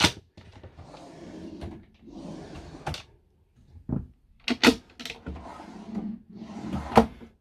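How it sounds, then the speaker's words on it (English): Drawers in a Carthago Liner motorhome slide open and shut several times, giving short knocks and rattling clunks spread across a few seconds, close by and moderately loud, with soft handling noise between them. "And drawers here as well."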